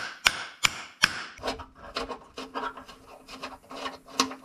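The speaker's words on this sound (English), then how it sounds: "this won't take but a couple taps with a hammer" Several sharp hammer taps on a metal bracket of a Pontiac G6, a few spaced strikes followed by quicker lighter knocks, close and clear with no talking.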